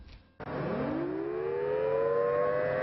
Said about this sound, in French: Toute l'après-midi, ils ont vécu au rythme des sirènes.